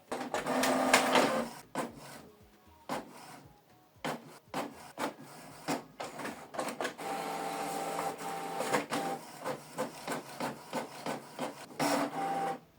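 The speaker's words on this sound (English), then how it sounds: "Then you select print. It's communicating with the printer." A Canon Pixma G3590 inkjet prints a double-sided black-and-white page: close mechanical whirring, rubbing paper feed and a quick series of clicks and ratchets, with short pauses as the page moves through.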